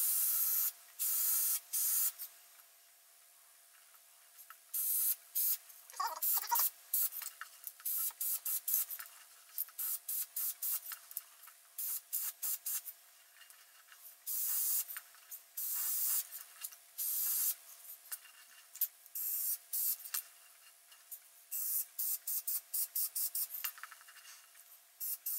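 Spray paint is applied to go-kart parts and a welding machine during a 110cc go-kart build. Repeated close, loud hissing bursts of varying length are separated by short pauses, with no talking.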